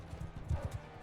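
Horse hooves galloping in the Mount and Blade II: Bannerlord video game, a quick burst of soft muffled clip-clop beats in an uneven rhythm, faint and brief with no talk.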